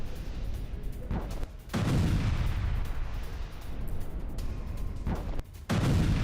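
Heavy explosions in a Russian-occupied war zone: several deep booms and sharp blasts in close succession, with a rumbling roar filling the gaps and two short lulls between bursts.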